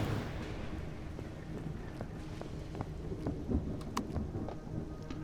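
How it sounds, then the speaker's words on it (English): Thunder rumbling through a steady rainstorm in the survival game Empyrion Galactic Survival, a continuous low roar of rain with rolling thunder swelling and cracking over several seconds, no voices. "It's just thunder."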